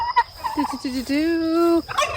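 Turkeys call from a backyard turkey pen on a small homestead. A few short, choppy calls lead into one drawn-out, strongly tonal call, all close and fairly loud.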